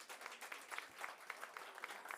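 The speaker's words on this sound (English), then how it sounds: "let's give them a round of applause" Faint, distant round of applause from an audience at a Miss Namibia pageant top 20 reveal event, a steady wash of many hands clapping with scattered sharper claps, no speech.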